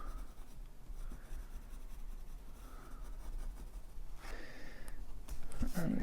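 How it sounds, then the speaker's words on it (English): A graphite pencil shading on a Zentangle tile, giving a faint, steady scratching close by, with soft breathing and a few louder rustles near the end. "So just adding your graphite pencil."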